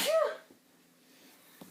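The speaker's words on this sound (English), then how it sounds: "that was a sneeze in case you couldn't tell" One sharp, loud sneeze bursts out at the start, followed by near-silence and a faint tap.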